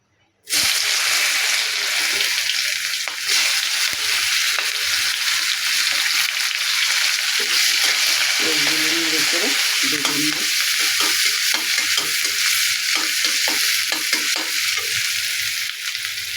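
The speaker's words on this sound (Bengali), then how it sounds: "এই তেলে পেঁয়াজ কুচি দিয়ে দেব" Chopped onions fry in hot oil in a pan used for cooking katla fish curry, giving a steady, loud sizzle that runs unbroken for the whole stretch, with a few stirring scrapes in the middle and no talking.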